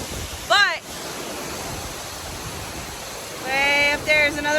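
Steady broadband rush of water from a waterfall with a dog nearby, continuous and fairly loud throughout, with brief rising chirps, likely birds, cutting in near the start and end.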